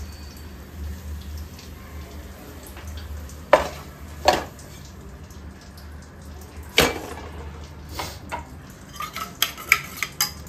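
An egg roll mixture is stirred in a pan on a gas stove: a quiet, continuous sizzle broken by sharp spatula scrapes and metal clanks that come more often toward the end.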